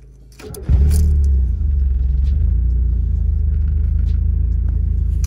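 A Mazda Miata engine cranks briefly and catches, then settles into a steady, loud, close idle that holds with no voices.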